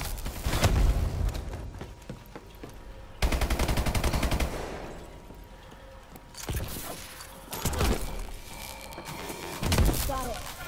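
Zombie-shooting video game gunfire: loud, close bursts of automatic weapon fire come in several separate volleys, each rattling for a second or two with short pauses and brief booms between them.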